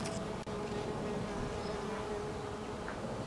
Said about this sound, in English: and bees around this flower